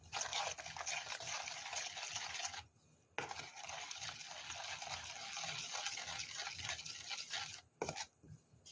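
Sauce ingredients, including ground black pepper, stirred and mixed in a bowl for spicy stir-fried pork, giving a steady scraping, clinking swish that pauses briefly and ends with a few short knocks.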